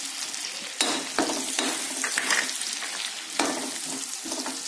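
Ground mustard, turmeric and coriander powders fry in oil over a medium gas flame for tomato pickle, a continuous crackling sizzle with occasional spoon scrapes as they are stirred, close up and without voices.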